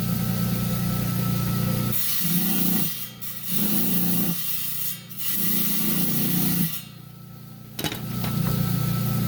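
Saw with a diamond disc cutting a chunky beach rock, a loud grinding whine in several bursts of about a second each, broken by short pauses, close and alone.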